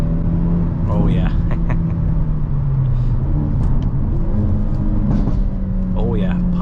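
A 2023 Hyundai Elantra with a six-speed manual driven on a highway gives off a steady loud engine and exhaust drone, with faint intermittent exhaust pops and crackles layered over the rumble and no talking.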